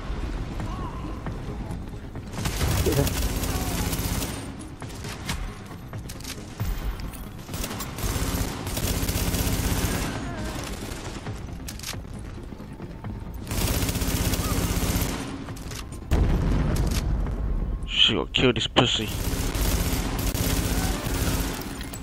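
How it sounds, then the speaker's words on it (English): Dense bursts of gunfire and booming explosions in Tom Clancy's The Division, at a power plant, come in waves, loud and continuous, with people talking over the noise. "can you hear them explosions?"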